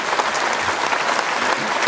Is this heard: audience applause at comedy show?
yes